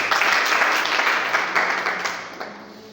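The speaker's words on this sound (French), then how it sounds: "Applaudissez pour vous-même." A church congregation applauds for itself, a dense wash of many hands clapping at steady loudness for three seconds before easing off slightly toward the end, with no talking over it.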